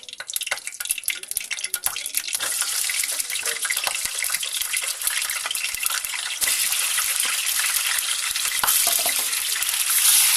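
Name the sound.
chicken frying in hot oil in a kadhai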